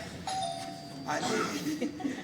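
A quiet doorbell chime rings indoors, followed by a person speaking softly.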